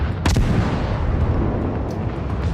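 Heavy, booming volleys from the quick-firing guns of the German Tier I cruiser Hermelin in World of Warships, a loud continuous wash of overlapping blasts and rumble with a few sharp cracks standing out.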